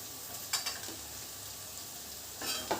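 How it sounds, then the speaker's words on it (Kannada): Garlic and ginger fry with onion in a pan for a home-style chicken gravy, giving a steady close sizzle broken by a few quick stirring scrapes of a utensil against the pan. "ಇವಾಗ ಲೈಟಾಗಿ ಈರುಳ್ಳಿ ಟ್ರಾನ್ಸ್ಪರೆಂಟ್ ಆದಮೇಲೆ 2 ಬೆಳ್ಳುಳ್ಳಿ ಹಾಕಿದ್ದೀನಿ, 1 ಇಂಚಷ್ಟು ಶುಂಠಿ ಹಾಕಿದ್ದೀನಿ"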